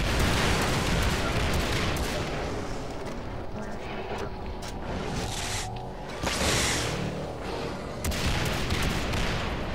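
Steady stream of gunfire from the Far Cry 3: Blood Dragon video game, dense continuous shots and booms at a constant loud level for about ten seconds, with bursts swelling near the middle and end.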